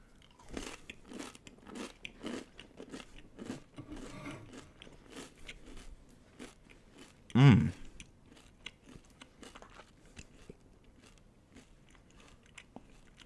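Close, wet chewing and crunchy biting of food topped with Carolina Reaper hot sauce, a steady run of small bites with one louder crunch partway through.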